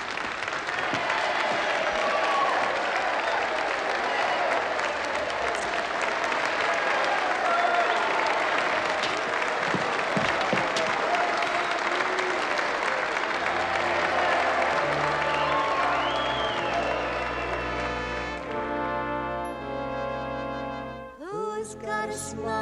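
A theatre audience applauds Jacki Weaver's stage number, a dense, loud wash of clapping that runs for most of the stretch before musical tones come in near the end.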